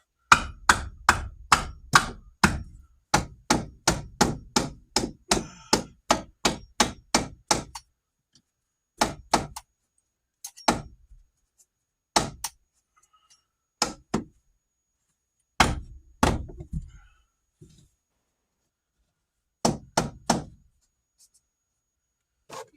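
A hammer taps a tack into a fiberglass boat repair, first in a fast run of about twenty sharp, evenly spaced blows, then in scattered pairs and single knocks separated by silence, close and loud.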